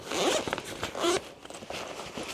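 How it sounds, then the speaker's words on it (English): A zip on a camera bag is pulled open in a few quick, rasping strokes, close and fairly loud, with short pauses between the runs. "it's got a very weird zip that just goes"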